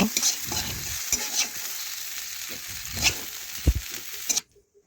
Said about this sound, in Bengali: এইভাবে একটু ভেন্ডিকে শুকনো শুকনো করে একটু ভেজে নেবেন